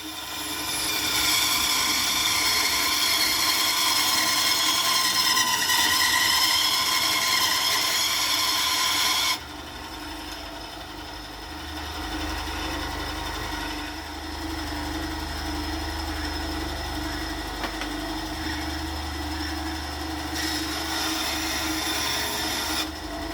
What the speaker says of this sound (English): I will do some rough shaping with the bandsaw.